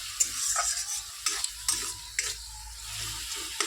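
Spice paste stirred and fried in a pan for a homemade papaya chutney, a steady close sizzle broken by scraping spoon strokes at an uneven pace, with no voices.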